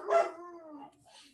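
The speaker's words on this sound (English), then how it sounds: "That's my brother's dog." An untrained dog gives a single drawn-out howling bark that slides downward in pitch, moderately close and alone, followed by a brief fainter tail of noise.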